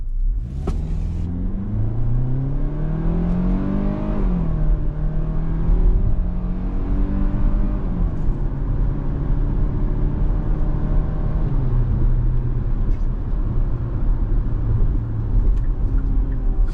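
A 2023 Hyundai Tucson N-Line's engine pulls away from a standstill, revving up through the 8-speed transmission's rising gears with a steady low rumble, loud and close throughout.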